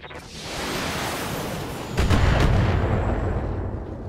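Mech weapons in the BattleTech video game unleash a sustained roaring barrage, swelling into a heavier booming impact midway that rumbles on and slowly fades, with no voices over it.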